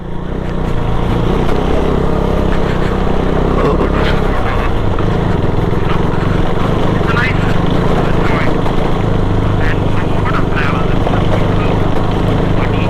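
Motorcycle riding over a rough mix of dust, patches of tarmac, gravel and boulder rocks on a rural road to Udayagiri, with a steady engine drone and broadband rumble throughout and faint crackles of stones under the tyres.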